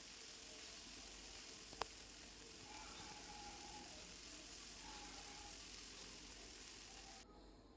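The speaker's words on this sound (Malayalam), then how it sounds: "ഇനി നമുക്ക് തക്കാളി ചേർത്ത് കൊടുക്കാം. ചെറുതായിട്ട് അരിഞ്ഞതാണ്, അതും കൂടി ചേർത്തൊന്ന് വഴറ്റി കൊടുക്കാം." Chopped tomatoes sautéing in a pan for egg bhurji give off a faint, steady sizzle that runs throughout, with one brief sharp click partway in and no talking.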